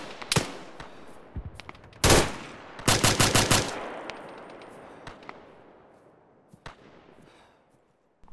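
Gunfire in a military video game set on a beach assault: scattered sharp shots and a few fast automatic bursts, loud then fading into a reverberant tail.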